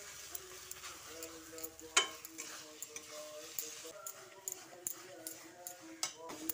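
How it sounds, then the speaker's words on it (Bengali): Coriander leaves are stirred into cooked cabbage chokha with a spoon, giving faint, scattered scrapes and light metallic clinks against the pan over a soft, quiet sizzle. "ধনেপাতাটা দিয়ে মিশিয়ে দিচ্ছি"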